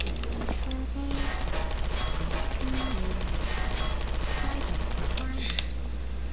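Rapid automatic fire from a turret in Portal 2 rattles on steadily over a constant low hum, with faint background tones and no talk.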